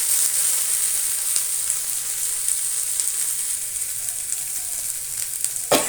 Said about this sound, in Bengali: এবার আমি এটাকে একটু লাল লাল করে ভেজে নেব